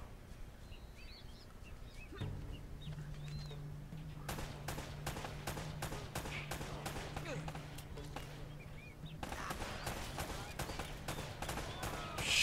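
Gunfire in the video game Uncharted: Drake's Fortune. Sharp, rapid shots repeat in quick bursts over a steady background of game ambience.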